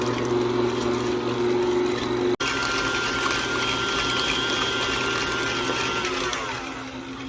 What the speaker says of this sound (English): I got my 2 blocks of cream cheese that I am going to start